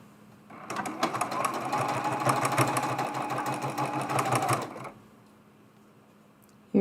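A sewing machine stitches a mug rug in one steady, rapid mechanical run of about four seconds, close and fairly loud, then stops with quiet afterward.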